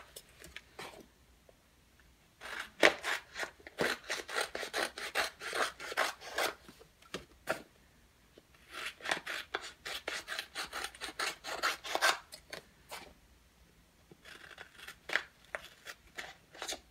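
Scissors or a blade cutting through a resin rolling tray, giving bursts of dry rasping and scraping strokes in two long runs separated by short pauses, close and moderately loud with no talking.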